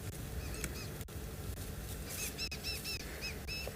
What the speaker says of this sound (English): they've heard a bird in the background